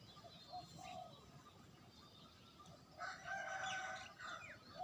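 A rooster crows in the distance over steady outdoor background noise, with other fowl sounds faintly mixed in.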